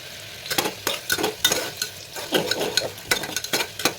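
Potatoes and soybeans fry in a pan as a spatula stirs them, making a soft sizzle under a close, uneven series of scraping and clattering strokes roughly every half second.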